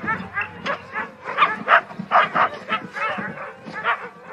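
A team of sled dogs pulling a sled barks and yips close by, a busy chorus of overlapping short barks and whimpers with a steady rhythm throughout.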